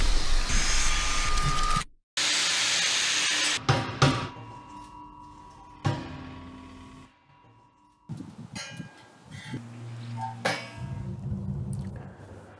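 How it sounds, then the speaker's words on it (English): Angle grinder with a Norton Vortex Rapid Blend disc polishing a rusty old carbon steel tank being made into a garden patio heater: loud, steady grinding bursts broken by abrupt stops, clanks and handling noise. "For this I'm using Norton Vortex Rapid Blend, a really versatile disc which can remove sharp edges, blend deep scratches and clean welds"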